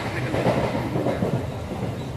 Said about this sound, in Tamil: ஸோ ட்ரெயின் பார்த்தா செம்ம ஸ்பீடாக போயிட்டுருக்குங்க.